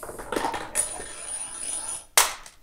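Slingshot ammo balls of 1/4, 3/8 and 1/2 inch drop one at a time into a homemade ammo sorter, giving a few sharp metallic clinks and rattles, the loudest near the end, with a brief high ring between.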